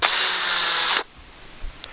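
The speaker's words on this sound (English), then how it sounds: "Now for the chainsaw sharpening hack I've been wanting to try for a long time. Cordless drill and a chain file." A cordless drill spins a chainsaw chain file at high speed, giving a loud, steady whine for about a second before it cuts off, followed by a faint tap.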